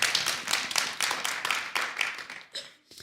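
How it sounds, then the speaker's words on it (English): A church congregation claps briefly, a sparse, moderately quiet burst of hand claps that thins out and fades over a few seconds. "Yeah, it's right to clap there."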